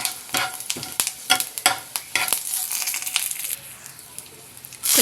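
Mustard seeds, cumin and crushed garlic fry in hot oil with a bright, steady sizzle and crackle, broken by several stirring scrapes in a pan, then settling into a quieter, even hiss before a louder burst at the end.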